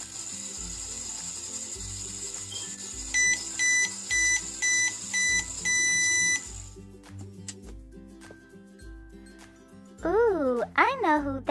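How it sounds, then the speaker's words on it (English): A toy magic microwave from a Play-Doh pretend play set gives a string of regular electronic beeps, then a short chiming, warbling tune rises near the end, with handling clicks throughout. "We'll place it in our magic microwave and see what Sheriff Callie character we make."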